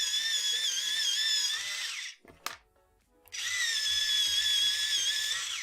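An electric pencil sharpener grinds colored pencils in two loud, steady whirring bursts, separated by a short quiet gap with a brief click as the pencil is swapped.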